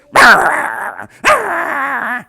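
A human voice imitates an attacking dog in two long, harsh snarling barks, loud and close, separated by a short pause.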